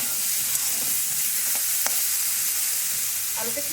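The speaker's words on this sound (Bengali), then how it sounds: "আলুগুলোকে বেশ ভালোভাবে নাড়াচাড়া করে নিচ্ছি" Chandramukhi potatoes fry in a pan without water while being stirred: a constant bright sizzle with a few scraping strokes of the spatula, close up and uninterrupted.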